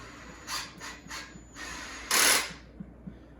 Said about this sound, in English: What you want to do is place the screw in the hole and press firmly against the leg